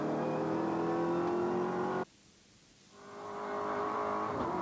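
V8 touring cars race at Teretonga, a loud onboard engine roar rising in pitch then abruptly cutting off for about a second before swelling back up again, with no talk.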